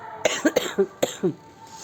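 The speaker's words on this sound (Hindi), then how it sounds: "मुझे खांसी हो रही है" A woman coughs in a short series of about five or six dry, hoarse coughs, fairly close and moderately loud, separated by brief pauses and ending with a little throat clearing.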